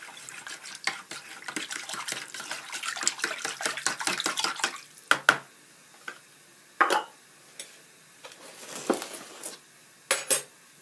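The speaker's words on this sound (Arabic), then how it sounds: "نخلطو هاد المقادير" Ingredients for spinach tart dough are stirred in a bowl, a fast run of clinking and scraping strokes that then thins into scattered, separate knocks of utensil on the bowl.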